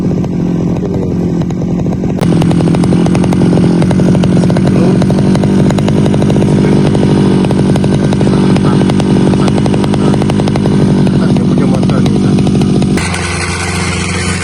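A small two-stroke grass cutter engine runs at steady high revs in an oil palm plantation, loud and close, with a buzzing drone that drops off near the end.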